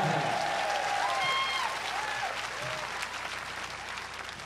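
A concert crowd applauds a blues legend at an outdoor music festival in Japan; dense clapping fills the space, with a few whistles early on, and it gradually thins and fades.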